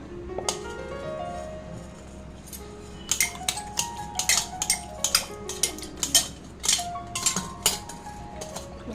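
A copper ladle and a small copper pot handled after cleaning: a rising metallic ring, then a quick run of bright clinks and taps as the metal pieces knock together, close and clear.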